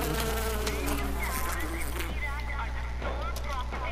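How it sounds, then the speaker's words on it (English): Swarm of bees buzzing loudly after a hive is shot in the Far Cry 4 video game, a dense, steady drone with wavering buzzes over a low game hum, with a voice talking over it. "there's a lot of bees."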